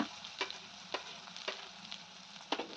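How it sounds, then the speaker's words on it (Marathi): Finely chopped onion frying with whole spices in a pan over low heat for paneer butter masala, a close, even sizzle broken by regular spoon scrapes about every half second. "लगेचच यामध्ये बारीक कट केलेला कांदा घालून घ्यायचा"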